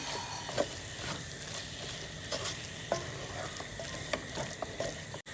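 Prawn roast with green chili sizzles in a pan while being mixed, a steady frying hiss broken by intermittent spoon scrapes and clinks close by.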